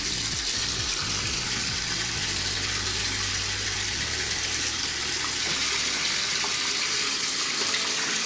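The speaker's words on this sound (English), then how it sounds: "Let's go wash our hands with some of that soap." A tap runs steadily for several seconds as hands are washed with homemade soap, giving a constant bright hiss of flowing water with low splashing underneath and no talk.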